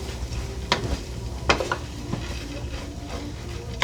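Cooked curry rice being stirred into a pan alongside tilapia and carrots, with a soft continuous sizzle and scraping broken by a few sharper utensil knocks against the pan.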